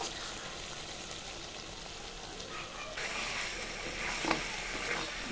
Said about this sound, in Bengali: মশলা খুব ভালোভাবে কষানোর চোটে একদম তলায় লেগে যাচ্ছে